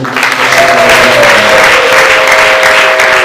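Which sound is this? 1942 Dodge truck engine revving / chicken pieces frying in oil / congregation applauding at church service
congregation applauding at church service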